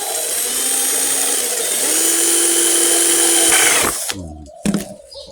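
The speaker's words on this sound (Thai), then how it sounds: "แล้วก็จะเจาะข้างๆครับ" A power drill drilling holes in the side of a plastic pot whines loudly and steadily for about four seconds, pitch rising partway, then stops, followed by a few short scraping clatters.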